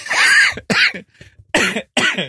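Four sharp coughs close by, grouped in quick bursts with short pauses between, the third one softer.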